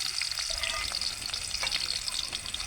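Garlic fries in hot oil as a tempering for a sprouted moth bean curry, giving a steady, bright sizzle with faint stirring scrapes throughout, moderately quiet and free of talk.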